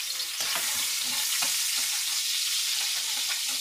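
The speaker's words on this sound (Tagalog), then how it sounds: "Gugisa lang muna natin yan." Bicol express chicken feet being sautéed in a frying pan, a steady loud sizzle with occasional stirring scrapes and pops, no voices.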